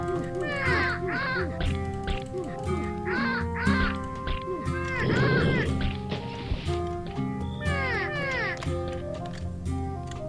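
Birds respawning in the video game Return to Dark Castle: a busy run of chirpy, warbling game bird calls and twittering sweeps over looping music, with a dense noisy burst in the middle, loud and continuous throughout.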